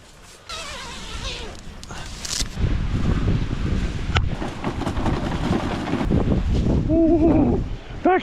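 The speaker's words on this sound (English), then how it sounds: "That wind's picking up." Strong blizzard wind buffets a tent and the microphone in heavy gusts, a rough roaring rush that swells and stays loud, with brief voice sounds near the end.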